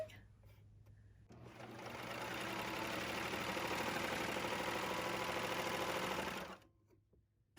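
A Baby Lock Victory serger set up for 4-thread overlock starts up and runs in a steady, dense mechanical whir for several seconds, then stops, with a quiet background hum before and after.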